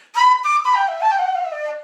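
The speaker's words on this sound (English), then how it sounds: "I'm pushing air through it and it's just splitting and screeching" A whistle sounded by pushing air through it, splitting and screeching into a loud, shrill, wavering tone that holds for under two seconds and slowly sags in pitch.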